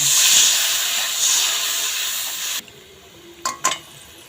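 Water poured into a hot pan of prawns, spices and fried vadi gives a loud steady hiss that cuts off abruptly, followed by two short clanks.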